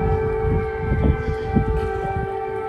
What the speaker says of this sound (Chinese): 前往著名的圣米迦勒金顶修道院，没想到巨大的空袭警报狂响